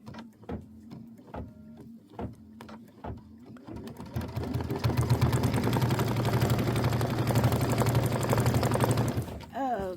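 An embroidery sewing machine stitches a quilt wreath block: a few separate needle thumps first, then a steady, fast mechanical whirring and clatter that runs loud and close for several seconds before stopping, with a voice speaking over the early part.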